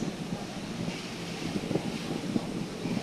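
Wind blows on the deck of a passenger boat as a soft, steady rush of air over a faint engine and water background, with no voices.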